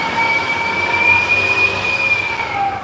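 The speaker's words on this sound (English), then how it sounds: "Sounds like that's actually a fire truck with squeaky brakes." A fire truck's squeaky brakes let out a loud, sustained high-pitched squeal that holds steady for about three seconds, with a low rumble beneath and no voices.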